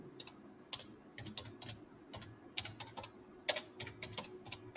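Keys clatter on a computer keyboard while SQL insert commands are entered, a quiet, steady run of light clicks in uneven bursts over a soft room hum.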